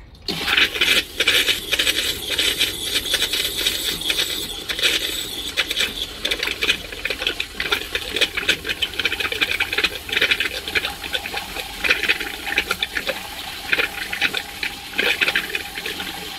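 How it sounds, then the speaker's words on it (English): Continuous rushing, gurgling water pours steadily into the toilet bowl of a 2021 Jayco RV, loud and close throughout, with no voices. "just enough to start filling the bowl with water"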